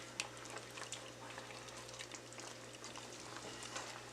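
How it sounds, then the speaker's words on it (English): A thick shrimp alfredo sauce with cheese begins to boil in a pan, giving soft, faint bubbling and popping with scattered small pops over a steady low hum, and no voices. "As you can see, it's starting to boil."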